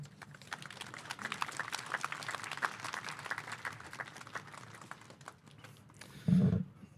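Steady audience applause at a university war memorial wreath-laying ceremony, a dense patter of clapping that gradually thins out and ends with a brief louder thump.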